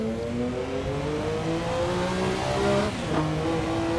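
A Porsche accelerates hard on a race track, its engine note climbing steadily through the gears in a loud, continuous in-car roar with layered rising harmonics.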